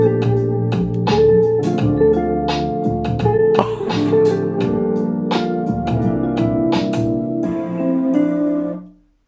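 Royalty-free background music played through the built-in speakers of an Apple Studio Display, a steady melodic piece with clear notes and chords at moderate volume, fading out at the end with no voices.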